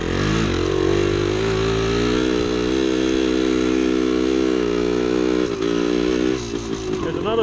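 A 1975 Yamaha DT250 two-stroke motorcycle revving on a woods trail, a loud steady buzzing engine note held near the rider, rising slightly and dipping briefly before falling off at the end.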